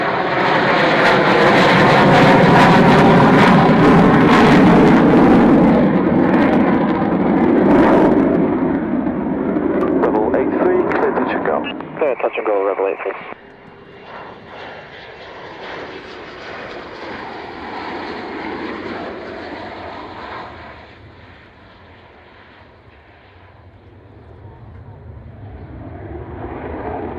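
A fixed-wing aircraft makes a low approach at RAF Coningsby, its engine roar loud and close for about half the time before falling away abruptly to a distant, fading hum.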